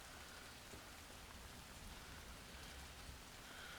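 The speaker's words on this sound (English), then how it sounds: "It's just a steady rain." Steady rain falls on a still, dark evening in Clinton, Missouri. It makes a constant broadband hiss with soft patters at an even, unbroken level and no voices, breeze or thunder.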